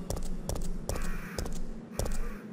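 Crows caw repeatedly in the survival horror game Resident Evil 3 Nemesis, harsh calls coming in bursts over a steady low ambient rumble.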